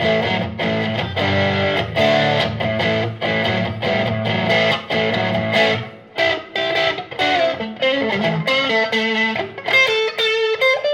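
An electric guitar plays through a Behringer TO800 tube screamer overdrive pedal into an amp, chugging rhythmic overdriven chords, then ringing single notes and chords toward the end, loud and alone without talk.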